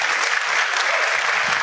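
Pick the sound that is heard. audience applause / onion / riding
audience applause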